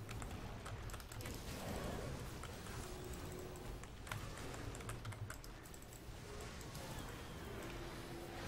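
Quiet, rapid clicking of a computer keyboard and mouse used together while playing the PC game Grim Dawn, a steady patter of keystrokes and clicks with faint background noise and no talk.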